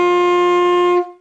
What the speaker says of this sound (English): D with our thumb key in the back sounds like this.